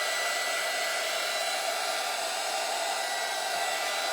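Hair dryer blowing steadily on a small painted wooden craft piece for a sunflower cutting board, a loud, close, continuous whooshing hum with no pauses or speech.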